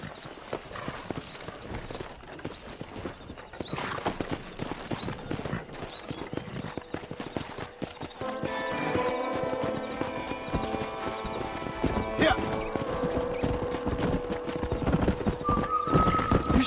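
Wild horses gallop past in the video game Red Dead Redemption, a dense drumming of hooves throughout, with neighs and whinnies rising over it in the second half.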